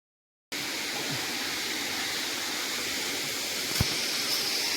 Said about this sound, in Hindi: बोतलदा के छोटा झरना।